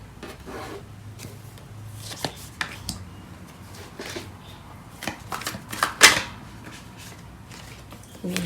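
Tarot cards being shuffled in quiet bursts of soft riffling and tapping, close and fairly faint, with no talking.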